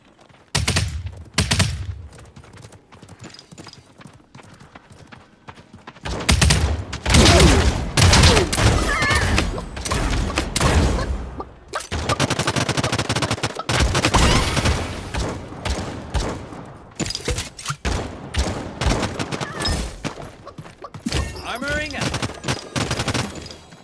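Dense gunfire rattles through a Realm Royale match, rapid automatic bursts and repeated loud shots crowding together almost continuously, with a player's voice speaking intermittently over the barrage.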